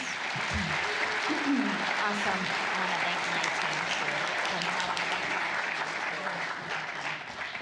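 Audience applause fills a hall at a food entrepreneurship talk, steady and loud throughout, with a voice speaking briefly over it near the start.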